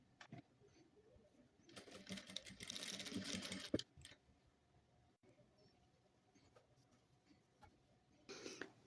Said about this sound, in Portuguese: E passar uma costura pé de máquina.